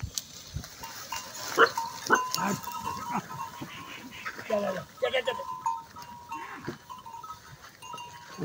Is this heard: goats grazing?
yes